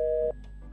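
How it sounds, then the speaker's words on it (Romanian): A phone call to a busy line gives a single steady electronic busy tone that sounds clearly for about a third of a second and then cuts off, leaving quiet background. "Totuși, unde-o fi Sofia, iată să o sun."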